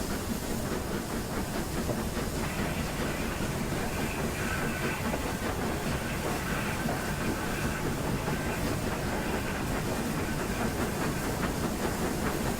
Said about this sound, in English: So as the train accelerates